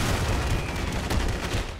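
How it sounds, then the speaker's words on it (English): Gunfire in a Chechnya mod battle for Grozny in a video game, a dense, continuous rattle of distant shots and rumbling blasts filling the whole stretch without pause. "I can hear gunfire."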